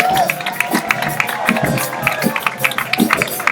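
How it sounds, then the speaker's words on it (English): An audience at a jazz event gives a round of applause and cheering for a professor emeritus, with irregular claps, a crowd murmuring and calling out, and a voice on a microphone over the noise. "get a great big round of applause and a hip hip hooray"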